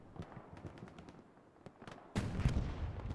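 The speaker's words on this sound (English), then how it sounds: "And it is that Axis artillery just feasting right now" Axis artillery fire in the WWII shooter Hell Let Loose on the Utah Beach map during a 35-versus-35 match: scattered distant gunshot cracks, then a sudden loud heavy blast with a rumbling roar that carries to the end.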